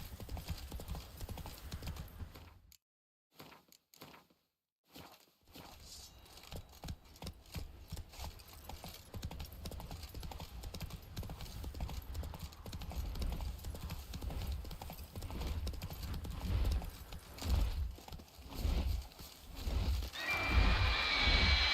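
Horse hooves clip-clop steadily in the video game The Witcher 3, a rhythmic trotting gait, close and clear, with a short silent gap early on and growing louder toward the end.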